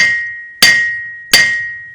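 Cooper's hammer with one flat end and one narrow end striking a barrel hoop on an anvil, two sharp ringing blows about 0.7 seconds apart over a sustained metallic ring.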